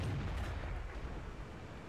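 Booming tank cannon fire from a game, heavy low rumble rolling continuously through a short stretch without any voice.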